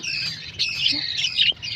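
Pet birds squawk and chatter in a steady, harsh stream, fairly close and continuous, with a low background hum underneath.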